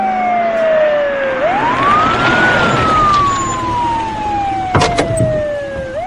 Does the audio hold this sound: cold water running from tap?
no